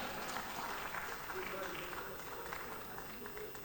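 A room full of people claps steadily, a dense patter of applause at moderate distance with faint voices mixed in.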